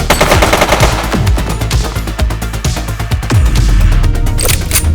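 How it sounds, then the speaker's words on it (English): Rapid bursts of gunfire from The Precinct police video game rattle continuously, loud and close, with sharp repeated shots and heavier blasts dense throughout. "She's shooting!"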